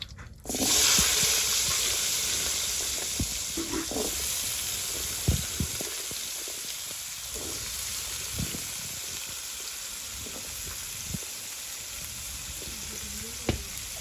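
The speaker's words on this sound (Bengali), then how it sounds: "মাছ ভাজিগুলো হয়ে গেছে, এখন আলুগুলো কষিয়ে নিব" Potatoes are sautéed in hot oil in a village kitchen just after a batch of fish has been fried, giving a loud, steady hissing sizzle with scattered clinks and knocks and no talking.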